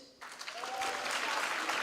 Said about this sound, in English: Can we applaud him for that?